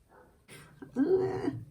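A dog barks indoors, one short burst that ends in a drawn-out, whine-like tone, heard close and fairly loud after a brief rustle.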